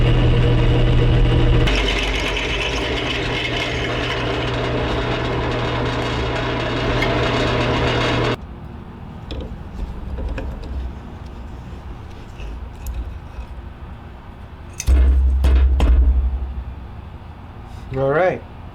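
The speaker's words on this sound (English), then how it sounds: "Drilling out both pieces at the same time." A drill boring through two stacked pieces of farmer's walk handle stock to 9/16 size, a loud steady grinding whine that cuts off abruptly, followed by quieter shop noise, scraping and a brief second burst of machine sound.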